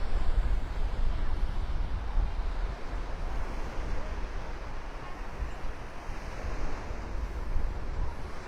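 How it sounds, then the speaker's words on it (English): Steady, rushing wind on a beach at Delnor-Wiggins in North Naples, Florida, buffets the microphone with low rumble, mixed with a broad wash like surf, continuous throughout with no voices. "Windy, windy, windy, as you can see."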